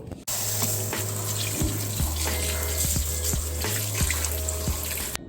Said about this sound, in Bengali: এই বেগুনগুলোকে সুন্দর করে ধুয়ে নেব